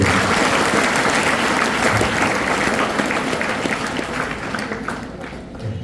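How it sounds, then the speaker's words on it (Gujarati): Students in a school hall break into loud, sustained clapping from a large group, slowly tapering toward the end. "એના માટે પણ જોરદાર તાળી થઈ"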